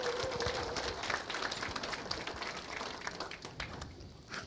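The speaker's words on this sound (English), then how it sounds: "Let's give this young lady a round of applause." Audience applause at a farm show, a steady wash of many hands clapping for several seconds, dense and fairly even in level, with no talking over it.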